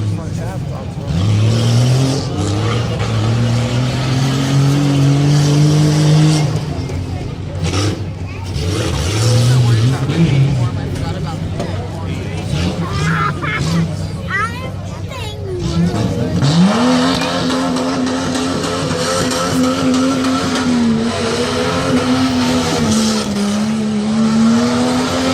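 Jeep Cherokee revving and racing at a tough truck event at the Lebanon Fairgrounds, its engine droning loudly and steadily with rising and falling pitch, mixed with crowd noise and a commentator's voice over the PA.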